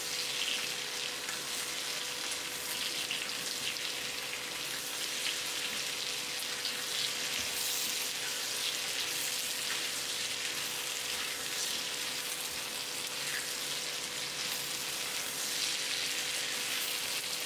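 Vegetables fry in a pan with ginger and cumin paste while being stirred, giving a steady, dense sizzle that runs unbroken at even loudness throughout, with no voices.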